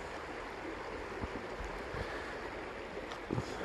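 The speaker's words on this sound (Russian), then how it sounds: "Это как раз сама река Пшада." The Pshada river flowing near a village, a steady broadband rush of running water with faint splashes, continuous and moderately quiet outdoors with no voices.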